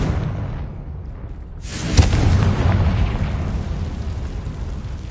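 Confringo spell blast in a Hogwarts video game: a quiet lead-in, then one sudden booming explosion followed by a sustained rumbling roar that slowly fades.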